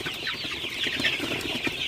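Sonali super hybrid chickens packed densely in a crowded shed, giving a steady, fairly loud mass of overlapping clucks and chatter that continues without a break throughout.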